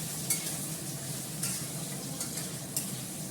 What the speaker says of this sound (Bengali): ভালো করে এটাকে পেঁয়াজটাকে কষিয়ে নিই